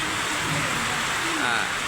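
Heavy rain pours over Mirpur Pallabi in Dhaka, where the streets are waterlogged. It makes a steady, dense broadband hiss that does not let up at any point.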